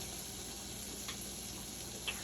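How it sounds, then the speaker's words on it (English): A quarter stick of butter sizzling and frying in a pot for caramel corn, a steady, even crackling hiss with a couple of faint ticks, no talking. "We got a 1/4 stick of butter in there frying up."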